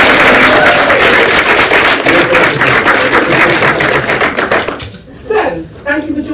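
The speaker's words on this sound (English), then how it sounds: "Please give a round of applause for Jesse Quinones." Audience applause for a person being introduced at a creative-careers event, a dense, sustained wash of clapping that fills the first five seconds, then thins into scattered claps and a few murmured voices.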